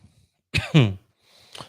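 A single close, sharp cough, then a softer throat-clearing cough a moment later, in an otherwise quiet room.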